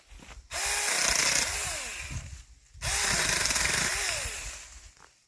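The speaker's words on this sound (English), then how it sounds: "I'm going to trim some of these back." Chainsaw on its first run trimming tree branches along a farm trail, revving loudly in two long sustained cuts with a brief idle dip between them, close by with no talking.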